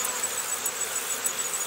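Honeybees swarm and buzz around a hive frame in a steady, continuous drone, close and fairly loud, with no voices over it.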